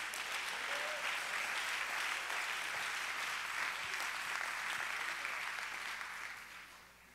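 A church congregation claps hands together in a long, steady wash of applause that gradually fades out toward the end, heard from a distance with faint voices underneath.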